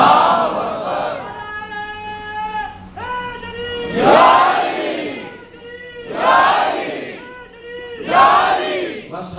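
A crowd of young men chants slogans in loud, rhythmic call-and-response bursts, voices swelling together repeatedly between quieter pauses.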